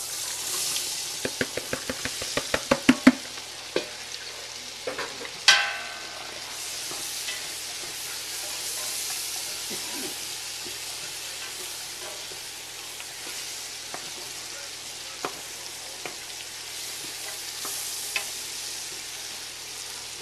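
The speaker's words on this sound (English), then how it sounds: "You can consider it stir frying in bacon grease." Vegetables sizzle steadily in bacon grease in a hot pan, with a run of quick metallic clicks and knocks early on and occasional scrapes of stirring.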